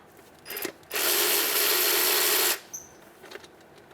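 A socket tool working out the back alternator bolt on a 2003-2011 Honda Element, tucked deep beneath the motor mount, gives one steady rasping whir of about a second and a half, close and clear, with short clicks before and after.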